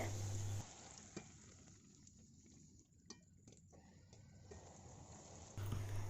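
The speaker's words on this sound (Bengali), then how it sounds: "তাহলে এইভাবে করে আমি সব ফুচকাগুলো ভেজে তুলে নিচ্ছি" Semolina puri (fuchka) deep-frying in hot oil, a soft steady bubbling sizzle heard close but faint, with a few small clicks, no talking.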